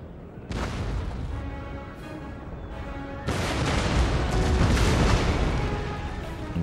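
Cannon artillery fire in a battle of the video game Empire: Total War, a dense, continuous roar of booming blasts that swells louder midway and stays heavy to the end.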